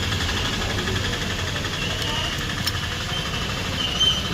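A vehicle engine runs steadily during a drive on a family trip, a continuous mid-pitched hum and road rumble with no break, fairly loud and close, with faint voices underneath.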